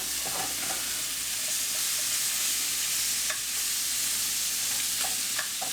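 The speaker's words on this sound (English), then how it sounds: "Nice bit of butter in there and we'll give it a baste." An Aldi lamb leg steak fries in unsalted butter while being basted, a steady loud sizzle with occasional small crackles and spoon clinks, close and continuous.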